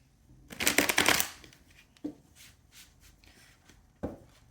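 Tarot cards being shuffled by hand, one close, dense riffle lasting about half a second, then a couple of soft taps and shuffling rustles, with no talk.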